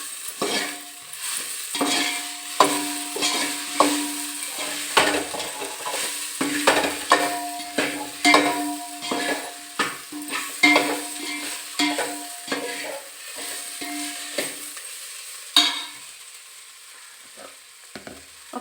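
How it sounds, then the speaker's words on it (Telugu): Food frying in a pan is stirred after salt goes in, a spatula scraping and clinking in repeated close strokes over a light sizzle, ending with a quieter pause. "కలుపుకుందాం."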